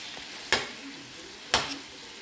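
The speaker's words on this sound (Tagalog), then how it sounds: "Gisa lang natin siya ng saglit. Kamatis. Gisa-gisa." Tomatoes sautéing in a pan for a coconut milk fish dish. A steady low sizzle runs under two sharp stirring scrapes about a second apart.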